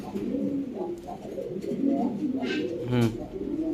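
Pigeons coo at a pigeon sale where birds are shown to buyers, soft throaty calls mixed with other birds under steady background chatter and nearby voices.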